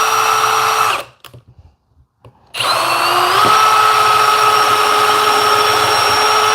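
A power drill drives screws into wood while ceiling bike hangers are installed. The loud whine runs, stops for about a second and a half of near silence, then resumes and rises in pitch.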